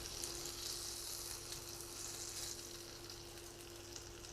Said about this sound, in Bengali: এই চিকেনগুলো আমি আস্তে আস্তে করে অল্প আঁচে এটা ভালো করে ভেজে নিব।